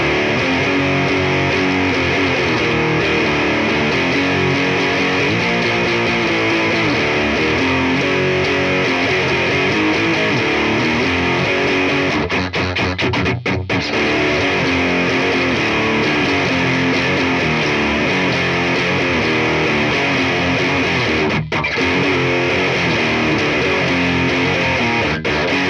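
Electric guitar played through a defective Bugera TriRec amp with its clean channel pushed into overdrive, a dense, continuous wall of distorted tone sustained throughout with no pauses.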